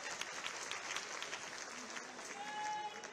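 A crowd at a live event with Chief Minister Yogi Adityanath applauds to welcome dignitaries onto the stage, sustained dense clapping from many hands heard at a distance, with a faint voice underneath.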